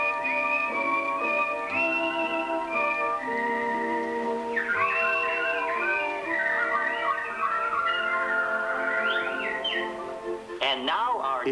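Animatronic birds of the Enchanted Tiki Room at Disney whistle and warble in a long melodic run, bright sliding trills and chirps layered over a musical backing, loud and continuous with a voice briefly underneath.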